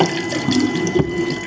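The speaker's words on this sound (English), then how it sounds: "then I'm giving it a quick little burst of water" Tap water gushes in a short, steady burst to rinse a safety razor, close and loud with a continuous splashing rush and no speech.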